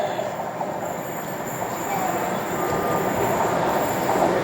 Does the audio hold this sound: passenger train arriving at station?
yes